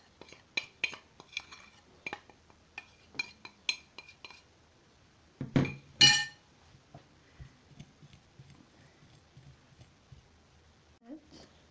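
Flour being mixed with yeast in a bowl for Turkish borek dough, close light clinks and taps of a utensil against the bowl in an irregular rhythm, followed by a louder scraping swirl, then quiet.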